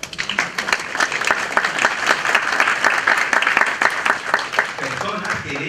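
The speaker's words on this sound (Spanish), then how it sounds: "Un aplauso para ellos, por favor." A crowd claps loudly in appreciation for volunteer firefighters, a thick sustained burst of applause with rhythmic sharp claps, close and full, with voices mixed in underneath.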